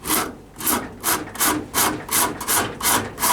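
A finer-toothed rasp filing ebony overlays on a hickory pyramid bow: about eight loud, close, rhythmic rasping strokes with short pauses between them, no speech.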